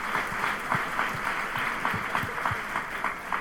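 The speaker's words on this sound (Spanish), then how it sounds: "Aplausos." Audience applause in a congressional women's forum hall, a steady moderate patter of many hands with a few sharper claps standing out, spread evenly across the clip and fairly distant.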